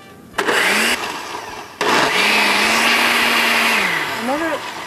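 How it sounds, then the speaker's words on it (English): A blender whirring through mint, marigold, paprika, olive oil, lemon, chives and salt for a raw chutney: loud motor bursts that stop briefly, restart and hold a steady pitch, then wind down as the speed changes. "So now I'll just go ahead and blend it."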